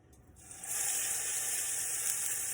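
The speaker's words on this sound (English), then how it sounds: "we're going to sear this roast on all sides for about 3 minutes" Roast beef hits hot oil in a pan on medium-high heat and bursts into a loud, steady sizzle that holds evenly after a quiet start.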